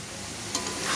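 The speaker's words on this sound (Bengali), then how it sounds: "তো এই দেখো আমার লাল শাক ভাজা প্রায় কমপ্লিট হয়ে গেছে" Red amaranth greens and chicken frying and being stirred in a pan, a steady close sizzle with scraping stir strokes, no voices.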